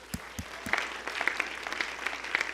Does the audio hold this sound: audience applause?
yes